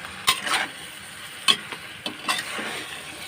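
Food being stirred in a pan, with several distinct scraping strokes and a soft sizzle in a quiet kitchen, close and fairly loud.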